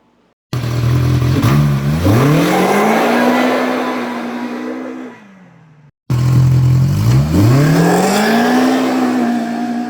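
Polaris Pro R UTV with an aftermarket clutch and tune revving hard twice, a loud close engine rising in pitch through each pull, then dropping away before a second burst of acceleration, with no talking.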